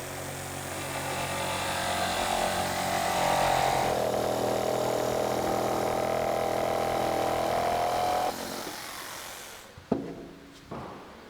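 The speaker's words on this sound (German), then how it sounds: "Stichsäge nachgeschnitten werden" A jigsaw cuts along the traced contour of a wooden cabinet side panel during a camper van conversion, buzzing steadily and close for about eight seconds before stopping, followed by a couple of brief knocks.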